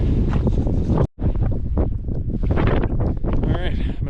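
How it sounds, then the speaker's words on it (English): Strong gusts buffet the microphone on a desert backpacking trail in Big Bend National Park, a loud, rough roar with a sudden brief drop near the one-second mark before surging again. "Very windy."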